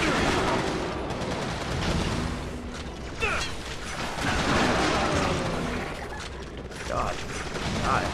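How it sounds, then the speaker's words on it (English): Rapid bursts of gunfire crackle amid a dense, continuous clatter of mechanical and game-like effects in the video game Resistance 2, with no clear pauses. "I'm hearing gunfire"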